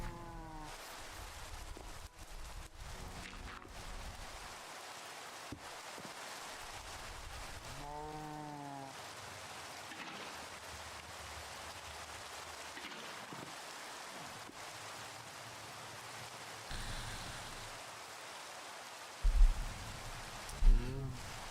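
Rain pattering steadily in the Minecraft ATM 9 modpack, a faint constant wash under scattered game noises and occasional louder thumps near the end.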